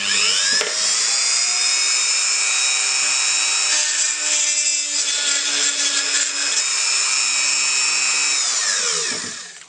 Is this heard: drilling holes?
yes